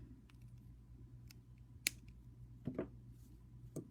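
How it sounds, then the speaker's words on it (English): Wire cutters trim a wire tail off a handmade Halloween pendant, with one sharp snip, followed by a few soft clicks of handling in a quiet room. "now we're just going to trim that tail off"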